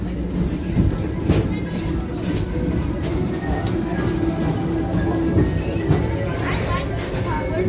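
The Tomorrowland People Mover ride at Disney World rolls along steadily at night with a rumbling hum and occasional rattles and clicks from the track, fairly loud and continuous.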